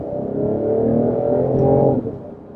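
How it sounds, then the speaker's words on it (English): A 2019 Mercedes-Benz CLS450 Coupe 4MATIC engine blips on an automatic downshift while slowing to a stop, a short loud rising rev that holds and then drops away, heard from the cabin. "I love how it downshifts for me and blips when I come to a stop and when I hit the brakes."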